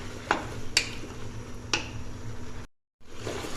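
Eggplant and capsicum being mixed in a pan, making a few sharp, close spatula taps and scrapes over a low background hum, with a brief dead-silent gap near the end.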